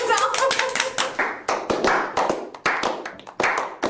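A small group claps in bursts, sharp close hand slaps scattered irregularly, with voices talking and laughing over them.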